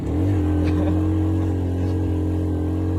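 A Honda CD70 motorcycle engine labours on a steep mountain road, a loud, steady low drone with a sustained hum held close to the microphone, slight rise in pitch early on.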